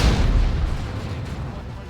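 Rapid-firing plasma guns in a Warhammer 40,000: Dawn of War 2 3v3 battle, a dense rumbling barrage of booming shots that is loudest at the start and then stays steady under faint voices.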